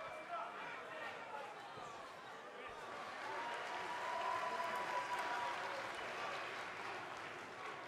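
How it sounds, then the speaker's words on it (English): Wrestling arena crowd at an IMPACT Wrestling match cheering and applauding steadily, a dense wash of clapping and voices that swells midway and stays loud throughout. "it sounds to me like the crowd is more than ready for this one"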